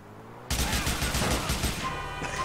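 Gunfire in GTA IV breaks out suddenly as a rapid, loud burst of repeated shots that continues close by for about two seconds and then tapers off slightly.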